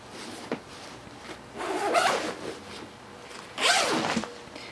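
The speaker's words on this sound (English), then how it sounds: "this has two zippers which can open all the way down." Zipper on a CamelBak Agent hydration pack being pulled open in two quick, close rasping runs, each lasting about a second, with a brief rustle of fabric before them and no talk.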